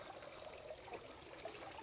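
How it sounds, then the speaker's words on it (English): A garden fountain, set among blooming daylilies, gives a soft, continuous trickle and splash of flowing water, faint and even, with no voices. "Let the viewer listen and enjoy the soothing water flowing sound from the fountain."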